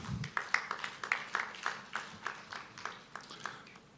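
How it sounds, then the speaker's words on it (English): A conference crowd in a tent session claps in a quick, even burst of applause, heard fairly softly and slowly fading over a few seconds. "can we give him another round of applause?"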